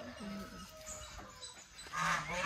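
Geese honk at an animal sanctuary, several nasal calls overlapping in quick succession, fairly close and loud against a busy outdoor background.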